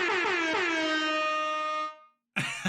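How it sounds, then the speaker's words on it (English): One loud, harmonically rich air horn blast holds for about two seconds, then cuts off into silence before a short burst of another sound returns. "It's the damn air horn."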